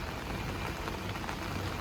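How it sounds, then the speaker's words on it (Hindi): Heavy rain falls outside, a soft continuous hiss of dense drops heard quietly and steadily throughout, with no voices. "बाहर तो काफ़ी तेज़ बारिश हो रही है"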